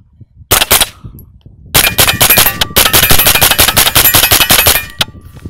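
Rapid, loud bursts of gunfire from a CMMG Banshee rifle, with one short burst followed after a pause by a long string of closely spaced shots. The firing stops abruptly at the end, and nobody speaks.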